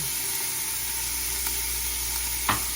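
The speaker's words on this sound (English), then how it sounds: "this is half a cup of chopped carrots going in the pan" Half a cup of chopped carrots sizzles in a pan for chicken soup, a steady close frying hiss with one brief louder crackle near the end.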